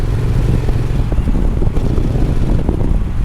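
Triumph Street Twin motorcycle being ridden, a close, continuous engine drone mixed with heavy wind buffeting on the microphone. The individual gear shifts are not clearly picked out.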